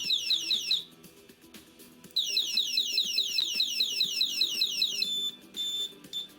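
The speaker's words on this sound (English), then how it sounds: "This is the emergency alarm." The emergency alarm on a Ziren DB140 warbles loudly in rapid repeating chirps, pausing briefly then resuming, with a few short pulsed beeps near the end.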